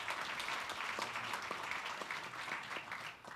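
A conference audience at a plenary session applauds a panelist's introduction, a continuous rustle of many hands heard from a distance and fairly faint, with a few sharper individual claps standing out.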